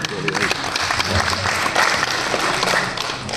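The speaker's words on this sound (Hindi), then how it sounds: "एक बार जोरदार तालियां" A festival audience at a Ram Navami cultural event breaks into loud, sustained applause, dense clapping throughout with voices mixed in.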